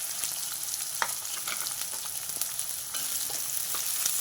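Chopped onions and green chillies sizzle and crackle steadily in hot oil for mutton gravy, a continuous close frying hiss with occasional sharper pops and stirring, no voices.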